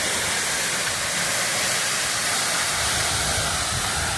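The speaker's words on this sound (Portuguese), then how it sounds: "Essa é a Cachoeira de Três Quedas." Três Quedas waterfall, a three-drop cascade on a forest trail, pours as a loud, steady, dense roar of rushing water heard close up.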